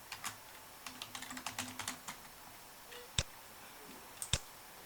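Rapid keystrokes on a computer keyboard while filling in an online sign-up form, a quick run of light clicks followed by a couple of sharper isolated taps, close and fairly quiet.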